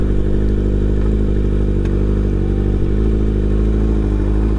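Kawasaki ZX6R sport motorcycle engine running close and loud, a steady, even drone with slight revving swells and no pauses, with no talking.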